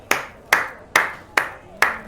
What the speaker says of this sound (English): Let's all clap for the new kids on the block, huh?